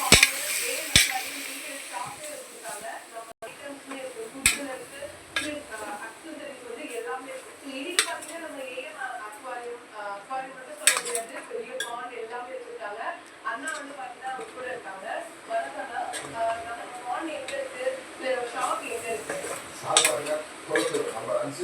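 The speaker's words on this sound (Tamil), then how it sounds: "நல்லா மிக்ஸ் பண்ணி வைக்கணும்." A spoon clinks and scrapes against a pot as goat intestine curry is stirred, with irregular metallic taps repeating throughout and a voice talking over them.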